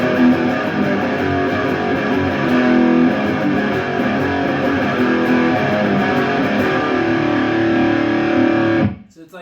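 A distorted electric guitar riff played through a Laney Ironheart IRT15H2 15-watt tube head with the tone knob turned low, giving a thick, warm, steady crunch that plays loud and close, then cuts off abruptly.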